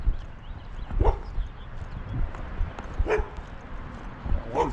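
Two dogs bark outdoors during a walk, giving three separate bursts of deep barks about two seconds apart over a low background rumble.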